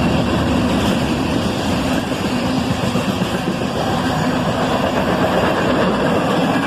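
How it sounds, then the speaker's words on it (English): A short CSX freight train led by an ES-44DC locomotive, with four locomotives in all, passes close by as a loud, continuous rumble and roar that holds steady throughout. "And a great little horn show from the engineer there on this 4-locomotive train"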